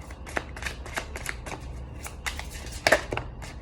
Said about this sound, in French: On va peut-être tirer encore une carte.